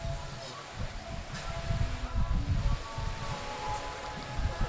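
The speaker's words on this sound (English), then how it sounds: "at this moment there, the rain is pouring down" Heavy rain pours down over an outdoor football pitch during a semi-professional league match in Saint Lucia, a steady dense hiss with wind-like rustling throughout.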